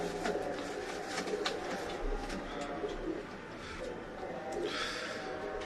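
Pigeons coo softly in a loft, low murmuring calls blending into a continuous, faint background hum with occasional rustles.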